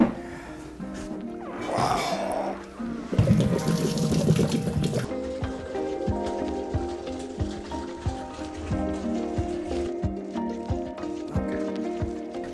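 Water splashes as a container is dumped out, then a steady stream refills it with fresh water during home beer brewing, close and fairly loud, with a brief gush followed by continuous pouring.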